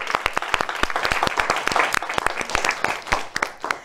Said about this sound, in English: Let's clap for Joe.